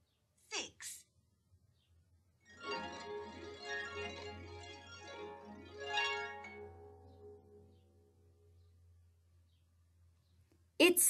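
A harp plays a few plucked, ringing notes that overlap and slowly fade, preceded by a brief breathy sound and ending with a sharp noise.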